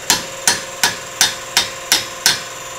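Hammer blows knocking an axle out of a turbocharged Mazda Miata during a Torsen differential install, seven sharp metallic strikes at an even pace of about one every third of a second, loud and close with no talk.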